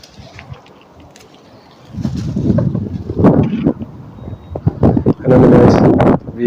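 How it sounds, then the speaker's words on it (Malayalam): Strong outdoor wind gusts hit the microphone in loud rushing bursts after a quiet start, rising and falling in uneven waves. "ഇവിടെ ഭയങ്കര കാറ്റാണ് ഗായ്സ്."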